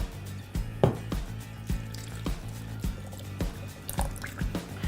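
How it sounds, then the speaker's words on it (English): Lakewood pina colada juice, a coconut milk and pineapple blend, pours into a blender for a smoothie, giving soft repeated glugs and drips in an irregular rhythm, close and fairly quiet. "Next, we're gonna be adding in our pina colada juice."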